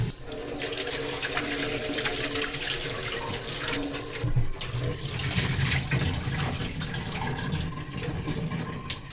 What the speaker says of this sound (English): I'm gonna try to hose this thing down.